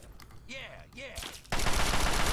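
Gunfire in Fallout 3 against a wall, heard as a short, loud burst of shots that begins abruptly partway through and continues to the end, following a quieter stretch with tonal game sounds.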